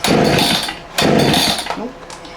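A 1986 Husqvarna 181SE chainsaw pulled over without choke, two loud broadband bursts about a second apart as the engine catches briefly and dies, followed by fading sputters.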